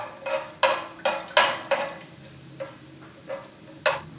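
Whole garam masala spices roast in hot oil for chicken biryani while a spoon stirs them, giving a series of sharp clinks and taps against the pot over a faint, quiet sizzle.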